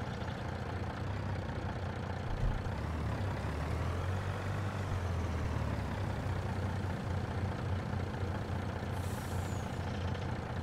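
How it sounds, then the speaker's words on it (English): Truck in Farming Simulator 22 on a forest road, its engine running with a steady low rumble throughout, no clear change in pace. "let's pull the truck forward a little bit more."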